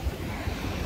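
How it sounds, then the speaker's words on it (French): Ocean waves on an Irish beach make a brief, loud, broad wash of surf mixed with rumbling wind buffeting the microphone, with no voices heard. "J'espère qu'on entendra bien avec quand même le son des vagues."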